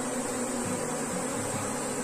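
Bees swarm and buzz steadily inside an opened beehive, a dense close hum with a low throbbing drone beneath it, continuous and without talk.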